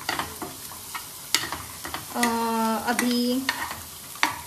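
Onion fries in a pan with red chutney, making a low sizzle broken by scattered clicks of stirring. A voice speaks briefly partway through.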